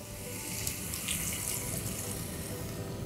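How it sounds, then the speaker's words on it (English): Water pours steadily from a tap into a pan of cooking tomatoes seasoned with Kashmiri red chili paste and salt, a soft, even rushing stream heard close and alone for a few seconds. "Let's add some water"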